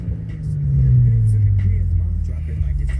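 A 2013 Cadillac CTS Premium heard from inside while driving, giving off a steady low engine and road rumble that swells slightly and then holds even, with a few faint clicks above it.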